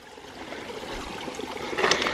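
Water trickles steadily into a micro hydro Coanda screen intake, fed by small pipe lines across a little bridge; a soft, close, continuous burble with no voices.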